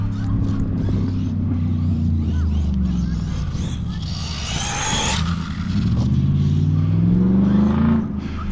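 Kraton 6S EXB RC car driven hard outdoors, its motor whining loud and close with pitch rising and falling on throttle taps over a steady rough background.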